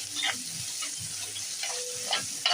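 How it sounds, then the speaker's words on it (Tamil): Ginger garlic paste sizzles in a pan for a country chicken curry, producing a soft continuous frying hiss with faint crackles and an occasional light clink close by. "அதான் நம்ம இப்போ இஞ்சி பூண்டு பேஸ்ட்டை நல்லா வதக்கி விட போகிறோம்"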